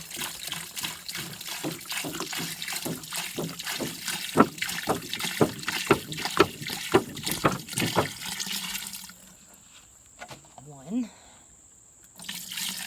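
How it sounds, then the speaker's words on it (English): Two gallons of rinse water poured into a Wonder Wash hand-cranked clothes washer, a steady splashing pour that runs for several seconds and then stops, followed by a few faint knocks against the drum. "So now we're going to put the rinse water in."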